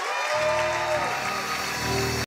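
A church congregation applauds loudly and steadily to acclaim the Lord during a French-language service, with music and voices sounding alongside the clapping.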